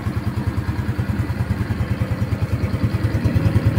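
A Honda Supra X125 motorcycle engine runs at a steady idle nearby, a rapid, even low putter with slight mechanical clatter, heard alone throughout.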